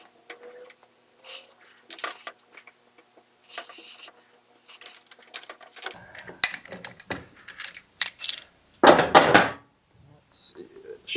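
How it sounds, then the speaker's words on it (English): A gear puller works a part off a Cub Cadet RTZ 50 hydro mower, with sparse metallic clicks and ratcheting scrapes building to louder clanks and a final burst of metal on metal, voices intermittent. "Let's see if we can use a puller and try to get this off smoothly."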